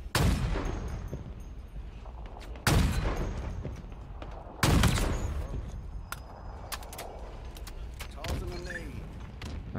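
Sniper rifle fire in a Halo Infinite multiplayer match: three loud, booming shots with long echoing tails, spaced a couple of seconds apart, amid background game noise and voices.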